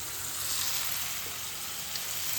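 Ridge gourd frying in a pan for a home-style palya, a steady soft sizzle holding evenly throughout with no voices, close and moderately quiet.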